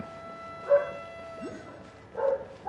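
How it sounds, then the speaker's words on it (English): A dog gives a couple of short barks and whimpers, faint and off in the background, with quiet gaps between them. "if you hear my dog barking in the background"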